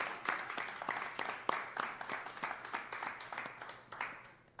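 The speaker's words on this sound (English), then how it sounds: "Let's give another round of applause for Trinidad and Mariah." A small crowd claps and applauds, uneven bursts of hand claps rising and fading, moderately close, with a little cheering mixed in.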